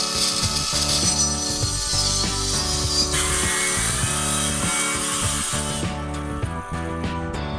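A circular saw running along an MDF guide jig cuts a scarf joint in a wooden stringer for a catamaran, a loud, continuous rasping, whirring cut that changes pitch partway through, close up.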